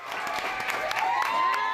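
A flurry of applause and cheering greets the grade 8 class at Rollinson Community School on the last day of the school year, a dense crowd of clapping hands sustained throughout, with some voices mixed in.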